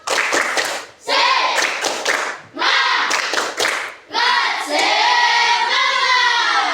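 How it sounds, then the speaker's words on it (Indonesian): A school class claps a rhythmic 'tepuk semangat' cheer in loud, close bursts of group clapping with short pauses between patterns, voices chanting along in between. "Coba tepuk semangat dulu. Tepuk semangat."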